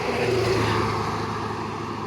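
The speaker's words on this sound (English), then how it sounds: "We're gonna let this truck go by." Truck driving past outdoors, a loud steady engine roar with a low droning hum that holds throughout and eases slightly toward the end.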